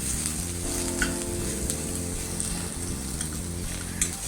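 Garlic and onion fry in a pan with a steady, close sizzle and crackle. A few faint stirring clicks break through the hiss, and no voice is heard.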